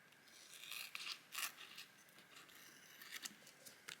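Quiet, close-up snips and crisp paper rustles, a few short cutting strokes spaced irregularly with soft crinkling between them.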